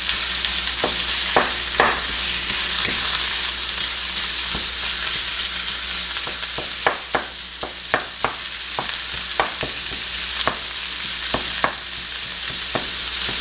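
A hot pan for enchiladas gives off a loud, constant sizzle and hiss, close up, broken by frequent sharp taps and scrapes of a utensil moving food around, with no voices.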